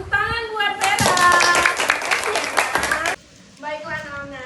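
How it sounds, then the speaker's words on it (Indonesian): Classroom of students clapping for a classmate in a school lesson, a burst of close, dense applause lasting about two seconds, with a teacher's voice talking before and after it. "Tepuk tangan buat Vera."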